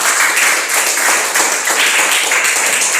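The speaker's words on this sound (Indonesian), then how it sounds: "Baik, kita tepuk tangan untuk dia." A school class claps hands together in a classroom, a dense burst of many small claps held steady and loud for a few seconds.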